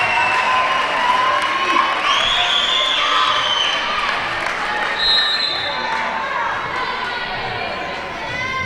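A big crowd fills a gym at a high school girls' volleyball match between Nevada Union and San Benito, a continuous loud roar of cheering and shouting with whistling whoops rising over it.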